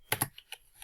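A few quick keystrokes on a computer keyboard, close and crisp, with two louder taps followed by softer clicks.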